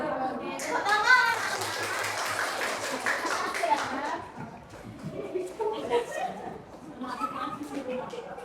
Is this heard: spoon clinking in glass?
no